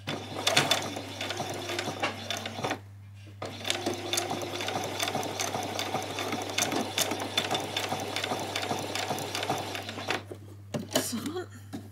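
Sewing machine stitching a skirt placket at an angle, a steady close whirring run of needle strokes with a brief pause near three seconds and a short stop near the end.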